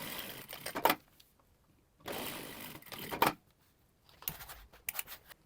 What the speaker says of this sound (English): we're going to sew very close to the folded edge.